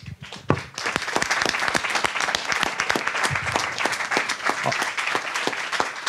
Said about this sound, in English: we should also give a round of applause to the soldiers that are giving a testimony today